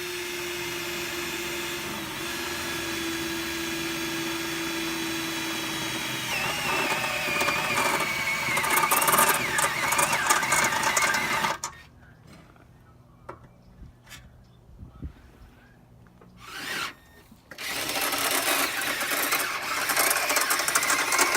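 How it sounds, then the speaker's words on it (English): A drill bores out spot welds on a stripped Honda race car body, a loud, steady high whine for several seconds that cuts off into near quiet with a brief burst, then starts up again. "I still got to get a certain amount through to get the spot weld all drilled out"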